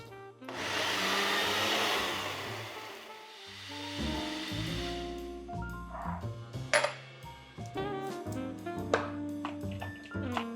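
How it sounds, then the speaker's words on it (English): A blender mixes a smoothie with a loud, rough whirring roar for about three seconds, then it fades out and a melodic tune with bright plucked notes takes over. "Let's mix up our smoothie."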